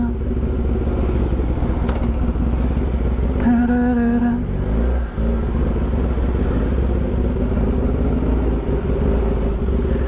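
A sports bike motorcycle engine idles with a steady low rumble, with a brief rising rev and clatter partway through before it settles back to an even drone.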